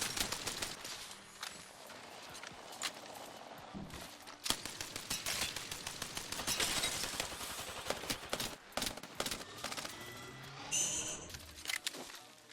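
Rampage LMG firing in Apex Legends: a chain of loud, punchy shots at a measured rhythm across the span, mixed with scattered game effects and footsteps.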